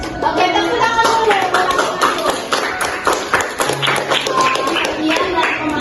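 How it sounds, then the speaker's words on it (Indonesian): Audience applause from young people at a Christian talk on technology, lively close clapping with distinct sharp hand claps that keeps up throughout, with some crowd noise mixed in. "Oke, tepuk tangan dulu."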